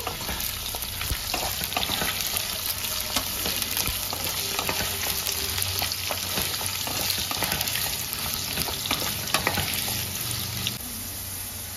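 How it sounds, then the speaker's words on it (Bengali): Cut potatoes and eggplant sizzle in hot oil, a dense continuous crackle with scattered clicks and scrapes of stirring throughout, close and even in level, with no one speaking. "এবার আলু আর বেগুনগুলোকে একটু ভাজা ভাজা করে নেব।"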